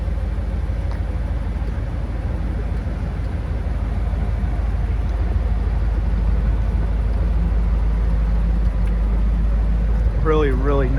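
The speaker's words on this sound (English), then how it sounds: "Really nice exhaust," A restored 1957 Ford Thunderbird with a rebuilt 312 Y-block V8 idles with a steady low exhaust rumble throughout, with a brief warbling tone near the end.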